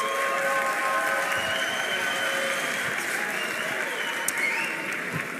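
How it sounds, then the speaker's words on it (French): An audience applauds at a French workshop gathering, a dense continuous clatter of many hands that stays steady and fairly loud throughout. "Applaudissements"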